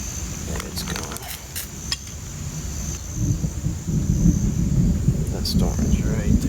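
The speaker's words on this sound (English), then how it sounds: "That storm is right there." Low rumbling thunder from an approaching storm over an island camp, a steady deep roll that swells louder in the second half, with wind noise and scattered crackles and knocks near the microphone.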